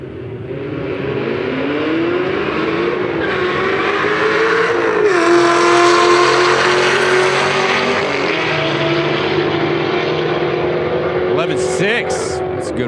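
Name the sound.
supercharged Camaro drag racing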